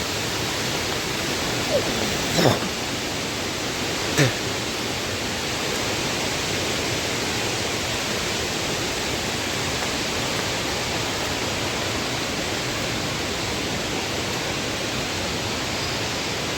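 Rain-swollen water pours beneath a bridge during the monsoon, a steady, loud rushing wash that holds throughout, broken only by a couple of brief knocks early on.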